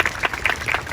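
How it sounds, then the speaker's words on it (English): Graduates and guests in a graduation ceremony audience applaud in a brief, lively burst of separate, moderately loud claps. "give yourselves a round of applause for making it this far"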